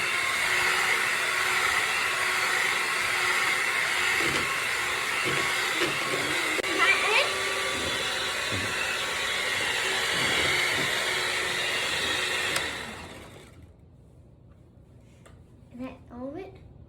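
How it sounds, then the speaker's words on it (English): A mixer churns gingerbread dough with a loud, steady whirring drone for about twelve seconds, then cuts off abruptly, leaving near-quiet with a few faint sounds. "We are going to be mixing again."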